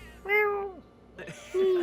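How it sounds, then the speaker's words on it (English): A cat meows twice in the video game Metaphor: ReFantazio, each call a clear, drawn-out falling meow, close and distinct with a short pause between them. "Kitty."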